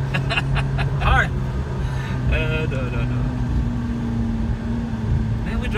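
A McLaren MP4-12C is driven fast, its engine producing a loud, continuous low rumble and road roar from inside the cabin. People talk over it throughout.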